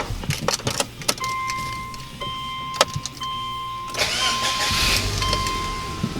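Subaru Outback engine starting after a timing belt and clutch job: keys rattle and a few clunks, a dashboard chime, then the starter cranks and the engine catches into a steady idle, close by.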